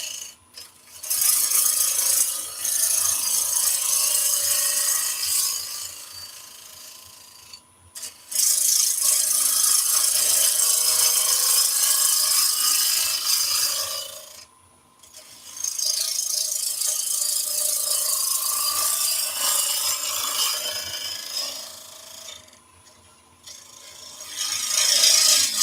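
Bowl gouge cutting a wood and resin piece on a spinning lathe, a steady hissing, scraping rasp in long sustained passes of several seconds each, separated by short pauses, close and fairly loud with no talking.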